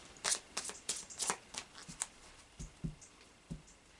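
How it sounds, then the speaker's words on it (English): A tarot card deck being shuffled, a run of quick crisp riffles and soft taps close by, with no talking. "we'll just do a final shuffle of the Oracle of Visions tarot deck"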